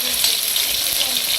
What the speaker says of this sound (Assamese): এয়া আমাৰ বাইদেউ মাছ ভাজি আছে পুৰা মাছ ভজা চলি আছে